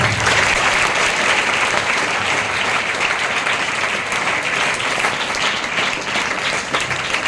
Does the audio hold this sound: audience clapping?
yes